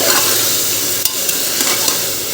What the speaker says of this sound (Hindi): तो आलू गोभी मटर और सोयाबीन हम डाल चुके हैं, इसको थोड़ी देर फ्राई कर लेंगे